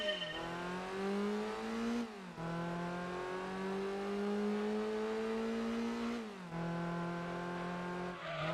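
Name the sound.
Honda Integra car driving in video game Gran Turismo 2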